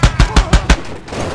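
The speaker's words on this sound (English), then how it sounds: "It fires 50 BMG repeatedly." A 50 BMG cannon in Far Cry 2 fires five loud, close shots in quick even succession, each a sharp booming crack, then stops as the echo fades into the background.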